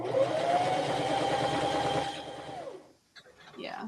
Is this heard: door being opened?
no